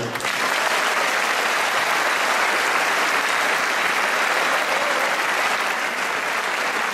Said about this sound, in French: vous pouvez déjà les applaudir